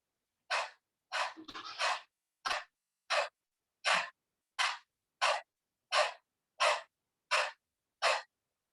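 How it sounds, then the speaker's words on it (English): A person performs open-mouth dog breathing in a yoga exercise, tongue out, sending a series of about a dozen sharp, evenly paced breathy huffs through the mouth, close and loud with silence between them. "keep your mouth open widely, tongue is out, and you are going to inhale, exhale through the mouth only"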